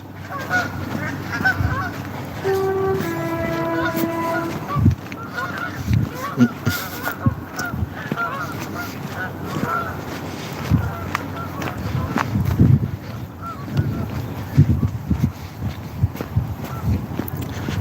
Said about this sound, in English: geese